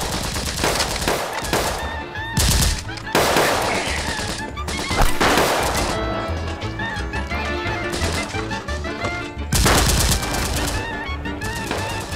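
Bursts of automatic and single-shot gunfire ring out in a dramatic film scene set in Odessa in 1917. The shots are loud and repeated, mixed with a dense, busy background of music and commotion.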